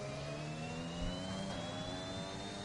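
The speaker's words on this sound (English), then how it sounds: "Very strange noises out of the engine. But that's just the game." Simulated Formula 1 car engine in the F1 2021 racing game at the Brazilian Grand Prix, a steady loud whine with rising tonal harmonics and a faint extra whistle, running continuously without speech.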